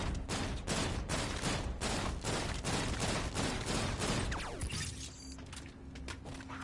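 Rapid gunfire in Black Ops 3 zombies, shooting at a window on the side of the dojo: a long, loud, dense fusillade of shots that stops abruptly, leaving a quieter ringing tail.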